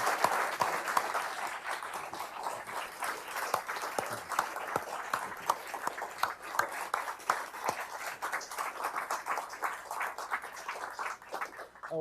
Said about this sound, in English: a round of applause for Richard Haass.